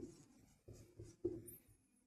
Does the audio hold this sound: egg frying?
no